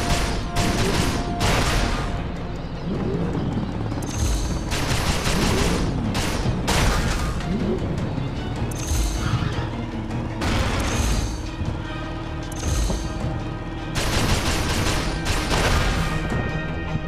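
Weapon fire during target practice in the Transformers: Dark of the Moon Stealth Force Edition video game: loud, dense bursts of rapid shots, blasts and crashing impacts, almost nonstop for the whole stretch with only short lulls.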